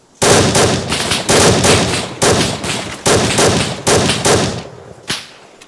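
Gunfire in a military video game firefight during an insurgent engagement: loud, sustained bursts of automatic fire in about five long volleys close together, then a final single sharp shot.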